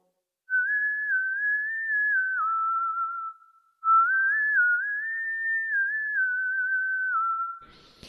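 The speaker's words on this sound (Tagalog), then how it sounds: "kapag andito, mas mababa yung sipol." A lower-pitched whistle setting on a Zoom V3 vocal processor gives a smooth, pure electronic whistle, heard as two long sustained phrases with gentle pitch shifts and a short gap between them, loud and alone.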